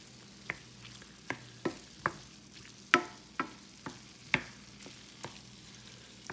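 A spatula stirs a tofu scramble with turmeric, chili powder and cumin in a pan, giving about a dozen sharp scraping taps at an uneven, unhurried pace over a faint sizzle.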